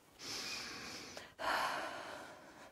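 A wounded man in medieval Kingdom Come Deliverance 2 draws two long, deep, audible breaths, one inhale then another after a brief catch, close and alone.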